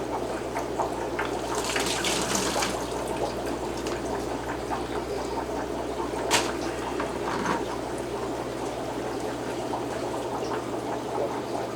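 Water pours steadily from a fish shipping bag into a discus aquarium, a continuous close splashing trickle with a low hum underneath and a brief sharper splash midway.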